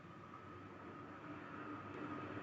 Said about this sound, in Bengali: অমৃত ভারত ট্রেন আমাদের বাড়ির কত কাছ দিয়ে যায়।